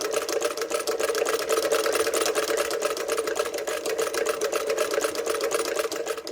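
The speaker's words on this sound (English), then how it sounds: "turning the crank towards me. And you can see she is sewing," Rapid, even mechanical clatter of a hand-crank sewing machine stitching with a modern needle, a steady close rhythm of needle strokes running continuously with no voices.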